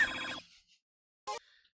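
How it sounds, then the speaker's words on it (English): A phone ringtone from a Discord mobile call: a loud bright ringing burst, a short silence, then a second brief ring before it cuts off. "I really wish the other one, Mr. Dr. Dazzle, would pick up his goddamn phone."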